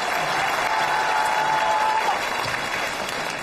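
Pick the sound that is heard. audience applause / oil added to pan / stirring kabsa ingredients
audience applause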